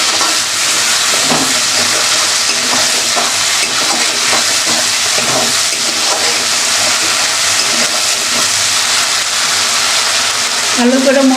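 Masala spices sizzle and fry steadily in a hot pan while being stirred for a Bengali fish curry, a loud, continuous crackle with occasional scraping and a brief voice near the end.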